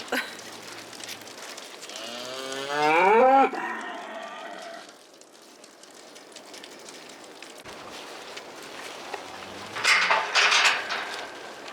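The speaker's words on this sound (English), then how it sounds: "So there's a bull in the barn, and Sam's letting the rest of the girls bac" Cattle in a barn, with one long, loud, close moo rising and falling, later a shorter low moo, and quiet barn ambience and scattered rustling between.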